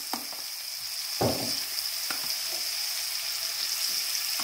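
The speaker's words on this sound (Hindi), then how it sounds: "अब इसमें टमाटर प्यूरी डालेंगे" Tomato purée goes into a pan of frying chopped tomato and green chilli for a prawn curry, and a continuous loud sizzle follows. A few soft stirring scrapes break in over the hiss, with no talking.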